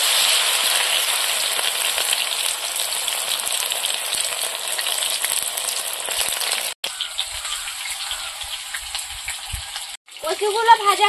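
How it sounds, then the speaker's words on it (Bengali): Taro (kochu) pieces fry in hot oil with a loud, continuous sizzle and crackle, close up, briefly interrupted by cuts, with a voice speaking over the last second. "এবার কচুগুলো সব এইভাবে ভেজে নেব"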